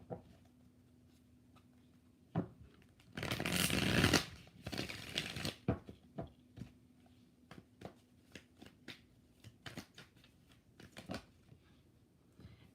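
Tarot cards being shuffled, several short riffles and a dense flurry of card snaps in the middle, then sparse taps and flicks as cards are laid down, close and fairly quiet.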